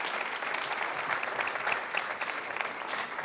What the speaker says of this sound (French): on peut vous applaudir, évidemment.